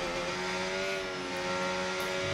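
Racing car engine in a video game race, driven steadily rather than flat out, holding a loud, sustained drone with steady tonal harmonics and a faint tyre hiss throughout.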